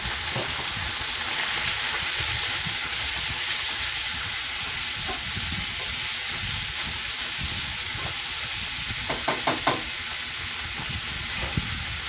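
Strips of skirt steak frying in butter, with a loud, steady hiss and sizzle throughout and a few brief clicks near the end.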